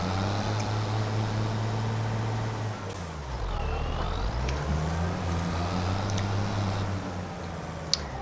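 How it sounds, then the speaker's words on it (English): A tractor engine in Farming Simulator 25 fires up and settles into a steady, loud diesel drone, its pitch dipping and then climbing again partway through before holding a constant idle. "I'm going to fire this tractor up."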